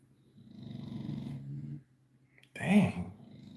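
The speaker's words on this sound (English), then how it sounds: "Your snoring is crazy" A person snoring close by, a long rattling inhaled snore followed after a pause by a harsher, louder snort.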